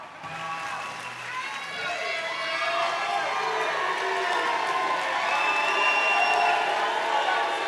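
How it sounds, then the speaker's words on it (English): Live audience at a comedy podcast show in Cancún breaks into applause and cheering, a broad crowd roar that swells and holds steady, with voices shouting over the clapping. "Give him a round of applause."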